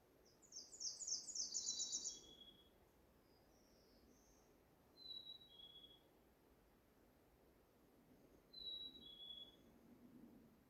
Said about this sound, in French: On écoute les oiseaux.